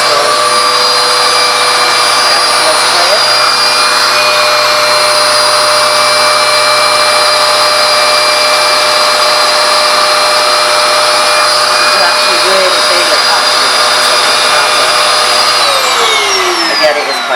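Vacuum cleaner running with a pet turbo brush attachment, a loud steady whining motor drone with a constant whirring tone lasting throughout, winding down in pitch at the very end.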